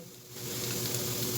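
Garlic sizzling in a hot frying pan for a crab dish, a dense close crackle that swells louder as the garlic goes in and holds steady, no talk over it.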